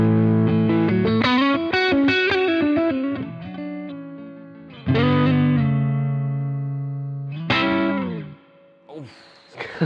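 Electric guitar played through a BOSS Nextone amp and boosted with a pedal, giving distorted, sustained chords and phrases with reverb and decay between strums, loud and alone with no talk.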